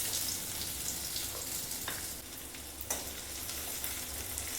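Two large chopped onions frying in hot mustard oil in a wok, a steady, close hiss of sizzling with a few louder crackles and stirring scrapes, continuous and without any talking.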